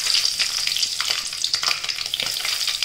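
Dried red chillies crackle and spit in hot oil during a South Indian tempering, a dense, continuous sizzle with sharp pops throughout, close and fairly loud, with no voices.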